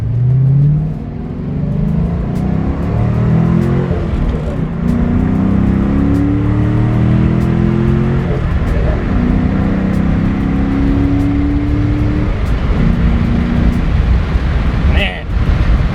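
A 2001 Ford Mustang Bullitt engine revs repeatedly, the loud exhaust rising and falling in several sweeps over a steady rumble, with voices faintly underneath.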